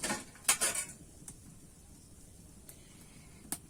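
Freshly fried raw mango and potato chops are lifted from the oil into a bowl: a few quick, light clinks of a metal utensil against cookware come close up at the start, then sparse soft taps over a quiet background.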